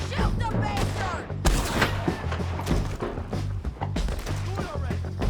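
Gunshots fire in bursts during a Red Dead Redemption 2 shootout, with thumping, overlapping reports and steady game noise while voices shout over the fight.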